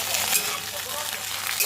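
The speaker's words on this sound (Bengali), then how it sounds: "ভাজা হচ্ছে" Brahmi greens fry and are stirred in ghee in a pan, giving a steady close sizzle with scraping stir sounds throughout, with no talk.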